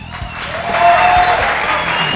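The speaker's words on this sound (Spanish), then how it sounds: "Un aplauso para él" Audience applause swells at a reality-show performance as a singer is introduced before playing a song, a brief burst of clapping that rises and holds, with faint voices underneath.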